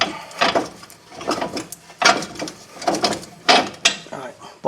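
Strut bolts come off the front suspension of a 2009 Honda Pilot, with a run of close metallic ratcheting and clanking bursts in uneven rhythm as someone talks intermittently.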